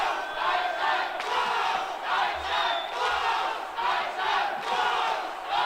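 A large crowd at the women's doubles final of the foosball World Cup cheers and chants in loud, rhythmic surges that rise and fall steadily throughout.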